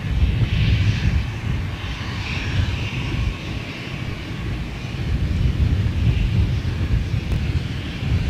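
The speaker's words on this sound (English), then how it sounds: "these 737s, man" A Boeing 737 airliner roars past at London Gatwick, a steady broadband engine rumble with a hissing whine, loud and sustained throughout with slight swells, some wind buffeting the microphone.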